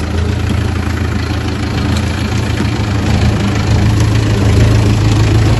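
A tractor engine idles steadily with a constant low rumble and faint knocking vibration, continuous and fairly close, with no talking.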